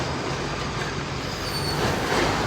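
A Melbourne tram runs on its rails with a steady, loud broadband rumble and rattle of wheels, and no voices are heard.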